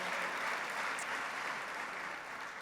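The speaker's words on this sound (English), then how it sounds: "a round of applause" An audience claps at an awards honoree event, a dense and fairly faint wash of applause that holds steady throughout.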